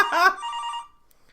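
A telephone bell rings loudly and close in one short burst that fades out quickly, followed by quiet.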